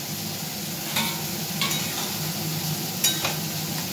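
A soybean and potato curry is stirred in a pan, a soft steady sizzle broken by a few scraping strokes of the spoon, fairly quiet and close.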